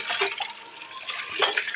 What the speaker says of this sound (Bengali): এখন মাংসগুলো ভালো করে ধুয়ে নেবো